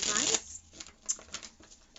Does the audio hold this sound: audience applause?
no